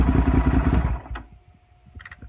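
A 2008 Suzuki SV650S motorcycle fitted with a performance pipe rumbles near and loud with a throbbing, pulsing idle, then its level drops sharply to a faint, uneven putter, with a few light clicks near the end.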